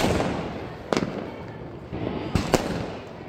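Diwali firecrackers going off outdoors, several sharp bangs in quick succession over a steady bed of crackling and background noise, fairly close.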